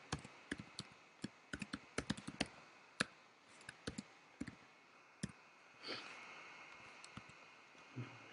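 Keys on a computer keyboard tapped to enter guest details at a hotel front desk, scattered sharp clicks in irregular bursts, close and quiet with no talk.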